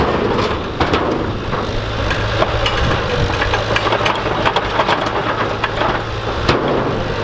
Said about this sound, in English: use his skid steer to fill up this 30-yard dumpster